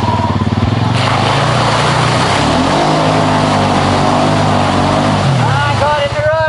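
A Honda Pioneer 500 UTV engine revs hard and steadily while pulling through muddy ruts, a loud, close, continuous drone whose pitch wavers and climbs toward the end.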